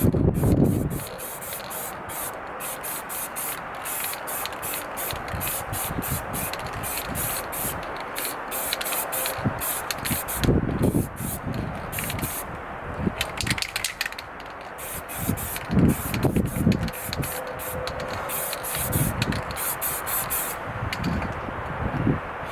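Alloy wheels are spray painted with an aerosol can in repeated short hissing bursts. Between bursts come quieter handling and rustling noises. The bursts are close and fairly loud.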